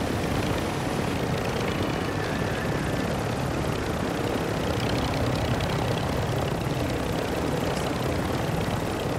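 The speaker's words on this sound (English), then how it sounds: "Okay, I'm gonna grab the helicopter." A helicopter in the video game Call of Duty DMZ makes a dense, steady roar of rotor and engine noise, loud and close, running unbroken throughout.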